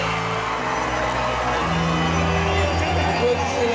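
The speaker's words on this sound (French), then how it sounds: "Un tonnerre d'applaudissements pour la reine qui retourne le roi" Crowd of guests at an outdoor wedding ceremony in a park, loud continuous cheering and hubbub with whoops and shouts, a voice speaking over the din.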